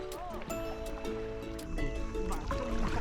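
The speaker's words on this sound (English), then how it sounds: "It's really cool to see the motor on a Tucktec." A small motor pushes a Tucktec folding kayak across water, a faint steady drone under splashing and gurgling, with people talking nearby.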